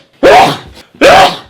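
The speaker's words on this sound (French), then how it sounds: "Sûr, je vais éternuer là-dessus." Two loud, close sneezes in quick succession, each a sharp burst with a voiced rising tone that trails off, separated by a brief pause.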